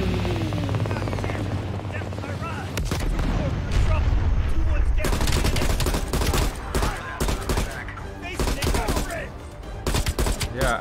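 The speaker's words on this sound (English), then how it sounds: "Taking heavy fire, wave it off!" Heavy gunfire in Black Ops Cold War: dense, continuous bursts and rapid shots stack up loud and close through most of the stretch, with occasional bigger blasts, while speech breaks through now and then.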